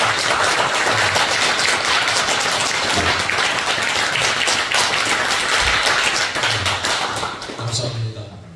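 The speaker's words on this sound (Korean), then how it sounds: "박수로 환영해 주시면" A church congregation claps in welcome during an ordination thanksgiving service, a dense steady patter of many hands filling the room for several seconds before thinning out near the end, with some talk mixed in.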